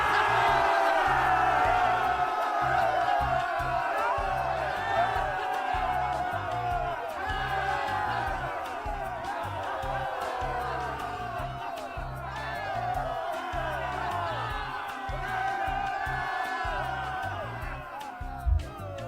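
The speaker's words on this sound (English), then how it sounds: "That's my medieval village crowd. You know, I got them cheering for you guys" Medieval village crowd in a Unity game, cheering with whoops and shouts in a steady, dense, moderately loud stream of many voices that continues through the whole stretch.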